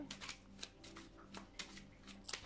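Tarot or oracle cards are shuffled by hand for a card reading, a quiet close riffle of repeated crisp bursts at an uneven rhythm, with no one speaking.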